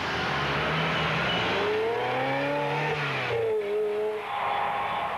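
A Ferrari with an F1 sequential gearbox drives in automatic mode, its engine note rising and falling through smooth self-shifted gears, loud and close, with a brief dip around a shift and no talk.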